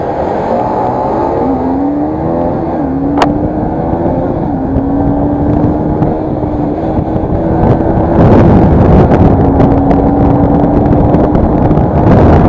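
Motorcycles racing flat out at top speed, Yamaha R15, Bajaj RS200 and NS200, a loud, close engine drone rising steadily in pitch, buried in heavy roaring wind buffeting that grows stronger toward the end.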